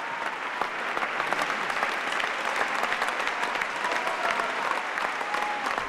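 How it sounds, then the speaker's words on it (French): A Paris Opéra audience at the Palais Garnier applauds a departing ballet star in her final bow, a dense, steady wash of clapping from a full house that never lets up. "30 minutes d'applaudissements ininterrompus"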